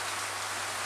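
Steady rain falls in a dense, hissing wash with no break, heard close and alone for under a second.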